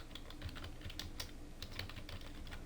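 Computer keyboard typing, a quick, fairly quiet run of irregular key clicks close by with no talking.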